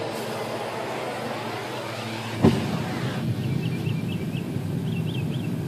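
A gas-fired torch is lit on a relined backyard foundry for melting brass, with a sharp pop partway through and a continuous broadband roar around it; faint birdsong chirps come through later.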